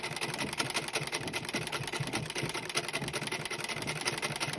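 A sewing machine stitches a hijab in a steady, continuous whir, quiet and even throughout, with no talking.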